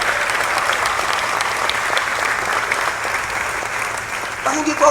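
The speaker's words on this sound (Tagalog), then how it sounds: "Malakas na palakpak po!" Loud, steady applause from a church congregation fills the space continuously, with a faint voice emerging near the end.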